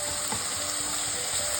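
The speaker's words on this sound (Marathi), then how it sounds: "लाल होईस्तोवर आपल्याला कांदे छान शिजू द्यायचे आहेत" Onions sizzle and fry steadily in a pan for savoji-style dal kanda, a constant close crackle with faint clinks of stirring.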